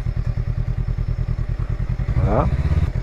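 A 2020 Honda Rebel 500 engine idles with a steady, pulsing chug close by, then a short mechanical clunk and a rising whine as it shifts toward neutral near the end before switching off.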